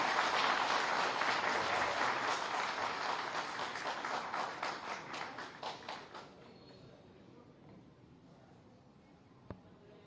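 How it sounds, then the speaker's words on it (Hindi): Audience applause at a state government launch event with the Chief Minister, loud dense clapping that gradually thins and fades out over several seconds, ending in near quiet with a single sharp knock. "आपकी तालियों के अभिवादन के साथ"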